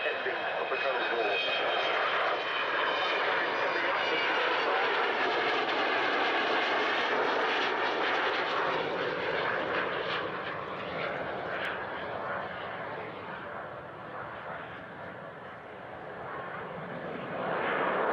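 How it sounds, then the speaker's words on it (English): An Avro Vulcan bomber's jet engines roar loudly and continuously, a broad sustained howl with a whistling edge that eases slightly near the end before swelling again. "under certain conditions you get that wonderful whistling sound"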